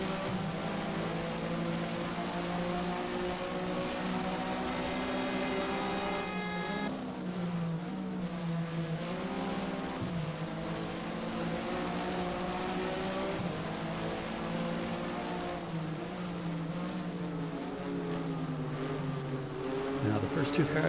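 Porsche SuperCup race car engines in Race07 at Valencia, a loud sustained engine drone that shifts pitch up and down through gear changes and revving, continuous for the whole stretch with someone speaking over it.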